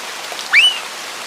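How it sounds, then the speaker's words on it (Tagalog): Heavy rain in an animated scene, a steady wash of downpour with one brief swooping tone in the middle; no voices are heard. "Ang sarap maligo, ang lakas ng ulan."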